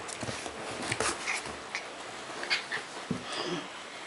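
A small dog sniffing and shuffling around indoors, with short irregular snuffles and scrabbling bursts close to the mic, separated by quiet gaps.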